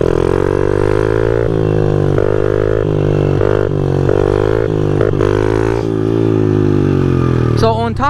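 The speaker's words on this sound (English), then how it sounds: "I'm talking while like on the throttle, so the bike tends to drown out the audio" A motorcycle engine revving hard on the throttle, close and loud, with rising and falling pitch as gears shift. The rider talks over it throughout.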